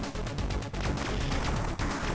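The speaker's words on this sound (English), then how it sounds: "But those explosions are great, the flames." Dense, continuous rapid-fire blasts and explosions from Space Invaders on the Game Boy Advance, loud and busy throughout with two brief dips, no talking over them.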